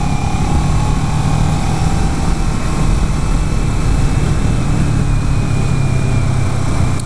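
A 2011 Kawasaki Ninja 650 motorcycle engine under way, a steady loud drone mixed with heavy wind roar, with no break throughout.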